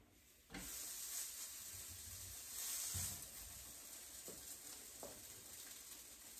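Cheese arepas sizzling on a hot griddle, a steady faint hiss that starts abruptly and continues evenly, with a couple of soft thuds and light taps from handling.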